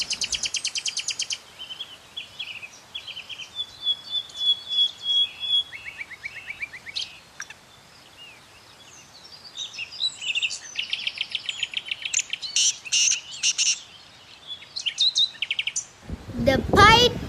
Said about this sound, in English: Crown blue pigeon may look royal, but even these gentle giants can't resist